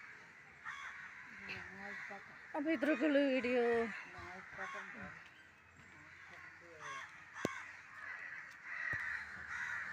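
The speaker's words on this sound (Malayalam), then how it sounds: "ഉമ്മച്ചിക്ക കാക്കപ്പട എന്ത് രസമാണല്ലേ കാണാൻ." A flock of crows caws in harsh, repeated calls, with a dense burst of overlapping caws in the middle and scattered single calls around it. A person speaks over the birds.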